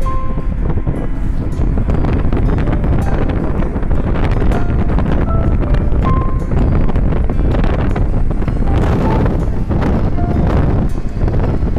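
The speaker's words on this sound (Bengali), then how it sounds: "হাওয়া দিচ্ছে।" Wind buffets the microphone during a long car drive, a loud continuous rushing roar with gusty swells and low rumble throughout, no voices.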